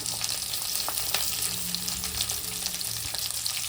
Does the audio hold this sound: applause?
no